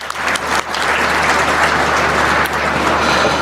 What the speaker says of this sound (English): please join me welcoming all the excellencies by having a huge round of applause